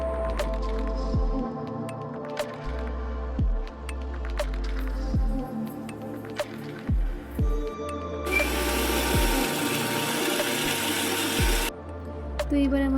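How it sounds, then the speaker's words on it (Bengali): A kitchen mixer grinder blends coconut, green chillies and cashews into a paste for a pointed gourd and prawn curry. Knocks and handling clatter come first, then one loud, harsh whirring burst lasting about three seconds. "এবার এগুলোকে মিক্সার গ্রাইন্ডারে দিয়ে পেস্টটা তৈরি করে নেব।"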